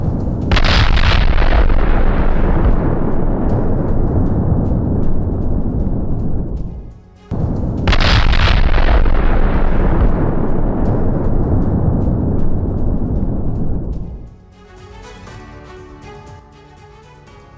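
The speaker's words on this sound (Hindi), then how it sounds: "रशियन आर्मी ने बड़ी माइनफील्ड तबाह की है।" Two huge, deep explosions roll out back to back as the Russian army destroys a minefield in Zaporizhzhia, each a long rumbling blast of about seven seconds, followed by quieter fading noise with no talk.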